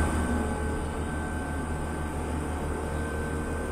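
A Class 156 diesel train in ScotRail livery rolls past in a British rail video game, giving a continuous, fairly loud rumble with a steady whine and clatter throughout, with no voices.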